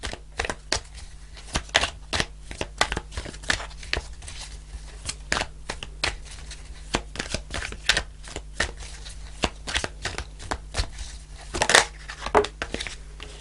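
Tarot cards being shuffled in quick, irregular bursts of crisp clicks and riffles, close and fairly quiet, continuing throughout with no talking.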